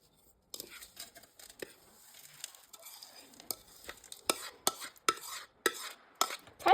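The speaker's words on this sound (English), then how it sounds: "Now mix it all together using a spoon until it looks something like wet sand" A spoon stirs a crumbly cheesecake crust mixture in a bowl, with a steady gritty scraping and repeated sharper clinks against the bowl that grow louder toward the end, close up.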